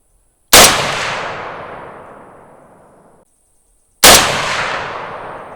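An HK MR762 LRP rifle fires two loud, sharp shots at a target, each a close crack followed by a long, fading ring of echo across an outdoor range, with about three and a half seconds between them and no talk.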